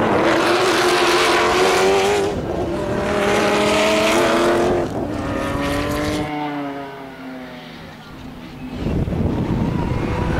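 A race car in a Gran Turismo circuit race in Panamá accelerates at full throttle onto a straight. The engine note rises loudly through the gears, with wind noise and tire sounds. A commentator's voice runs underneath.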